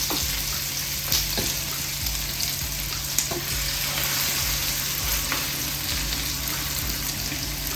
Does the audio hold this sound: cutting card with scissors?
no